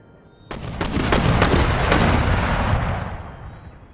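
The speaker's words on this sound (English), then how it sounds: "There we go, the mortars have engaged" Mortar and artillery fire in the strategy game Empire Total War: a burst of heavy booms starts suddenly, overlapping into a dense, loud rumble that holds for about three seconds before fading. No voices.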